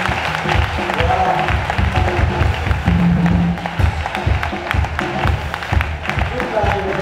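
Audience acclamation and applause for young people at an excellence day event, dense clapping and cheering from a crowd that rises and fades unevenly, with voices over it.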